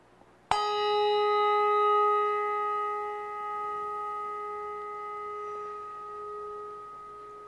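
A single church bell struck once during a memorial service, a sharp clang followed by a long, steady ringing tone that hangs and slowly fades over several seconds, with no talk.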